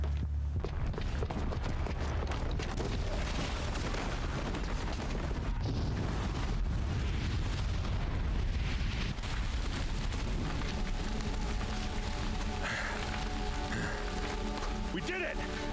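An in-game bomb blast in Horizon Zero Dawn after a booby trap is set off, a dense rumbling roar with crashing debris and heavy low boom running continuously, layered with game music and effects.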